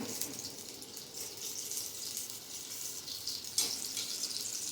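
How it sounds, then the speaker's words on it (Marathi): Steady watery hiss of hot water being poured into finger millet (ragi) flour, continuous and fairly close, with a brief splashy burst near the end. "थोडंसं गरम पाणी घालायचं"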